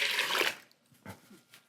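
Water poured into a pot when starting a batch of goetta with oats, a rushing splash for about half a second, followed by a few faint knocks and drips.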